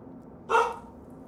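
A single short, sharp bark from a puppy in the space-survival game Stationeers rings out once, close and clear over a faint low background hum.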